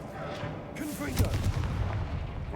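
A Confringo explosive spell goes off in the Hogwarts video game, a broadband burst near the middle with a low booming rumble trailing after it, loud over steady game background while a person talks.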